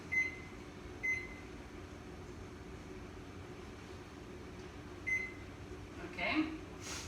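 A microwave oven steaming asparagus gives off a quiet, steady running hum, with a few short beeps and a brief rustle near the end.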